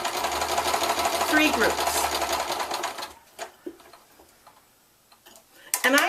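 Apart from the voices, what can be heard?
sewing machine stitching quilt pieces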